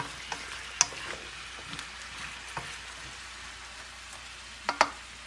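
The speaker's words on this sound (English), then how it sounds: "it's just a quick saute" Vegetables for a Jamaican-style fish stuffing get a quick sauté in a pan, giving a low, quiet sizzle broken by a few sharp crackles and stirring clinks, with no voices.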